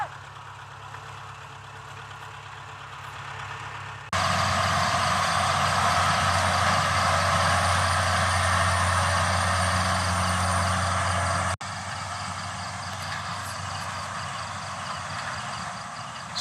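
A truck engine idles and rumbles loudly nearby on a rice farm, holding a steady drone for several seconds before dropping to a quieter continuous hum.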